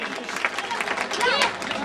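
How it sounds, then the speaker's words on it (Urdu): An audience at a political gathering breaks into applause, a dense wash of many hands clapping at a steady level, with a voice talking over it. "بھرپور تالیاں ان کے لیے."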